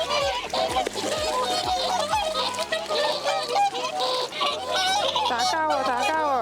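Whooper swans honk and call over and over at Lake Kussharo in Hokkaido, a dense, overlapping chorus of nasal, trumpeting notes that runs close and loud throughout, with a steady low tonal backing underneath.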